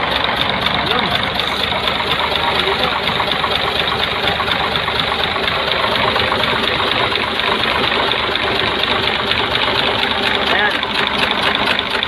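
An Isuzu 6WG1 diesel truck engine runs at a steady idle during an injector washer replacement, with a constant close-up rumble and clatter. A person talks over it at times.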